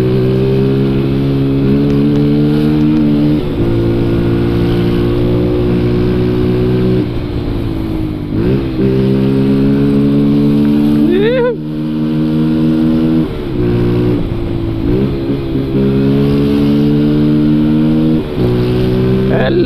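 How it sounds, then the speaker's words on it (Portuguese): A Honda CG motorcycle with a loud aftermarket exhaust roars close by, its engine droning through repeated rises and drops in pitch as it shifts gears and revs while riding. "Escapamento chave da peste."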